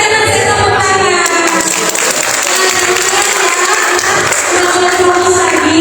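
Group hand clapping fills a children's session at a job fair workshop in Magelang, loud and steady throughout with a dense crowd texture and some children's voices mixed in.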